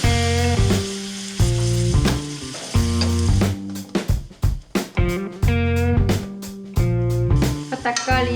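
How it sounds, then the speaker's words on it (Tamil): Chopped tomatoes sautéing in a pan with ginger garlic paste for a South Indian egg curry, a steady sizzle partly buried under loud, rhythmic background music. "அடுத்து பொடியாக கட் பண்ண தக்காளி இதில் போட்டுக்கலாம்."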